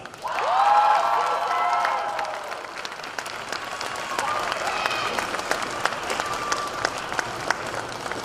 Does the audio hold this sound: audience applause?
yes